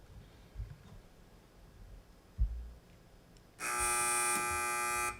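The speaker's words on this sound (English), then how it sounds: "Teams wait for the buzzer." Quiz match buzzer, a single loud, harsh electronic buzz lasting about one and a half seconds after a few quiet thumps in a hushed room.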